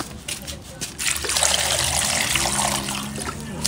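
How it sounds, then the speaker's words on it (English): Water is poured over plantain pieces in a saucepan, a steady close splashing trickle that swells after a brief start, with voices talking nearby. "she's pouring some water on it before she places it on the fire"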